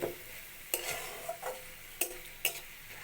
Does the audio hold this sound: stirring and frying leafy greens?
yes